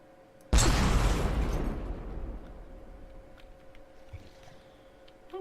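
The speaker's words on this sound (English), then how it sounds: "It seems the high explosive reactive armor has stopped the round" A cannon round striking high explosive reactive armor on a vehicle in the game From the Depths, one loud explosive blast that rumbles and decays over a couple of seconds.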